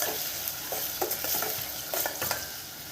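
Browned onions with freshly pounded ginger garlic paste fry in a pan, giving a continuous crackling sizzle with a few scraping stirs, close by and without speech.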